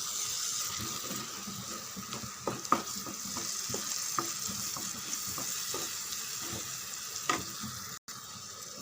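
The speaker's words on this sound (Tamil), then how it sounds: "நல்லா ஒரு 2 நிமிஷம் நல்லா வதங்கட்டும்." Tomato paste frying with masala in a pan sizzles steadily at close range, broken by a series of scraping stirs and clinks from a utensil, with no voices.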